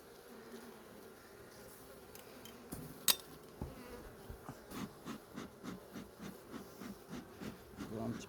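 Honeybees buzz softly around a hive in a low, steady drone, with rhythmic rustling and a sharp click partway through.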